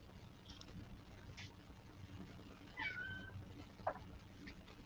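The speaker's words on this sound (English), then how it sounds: "If you hear somebody crying in the background, it's one of my cats." A cat meows faintly a couple of times in the background over a low, steady hum, with a brief sharper sound near the end.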